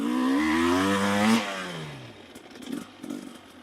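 An enduro motorcycle engine revs hard with a rising buzzing pitch, then drops off abruptly, followed by quieter clattering and scraping from the ride over rough ground.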